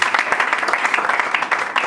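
A church congregation applauding in acclaim of the Lord, a dense, steady burst of clapping close and loud throughout the short moment.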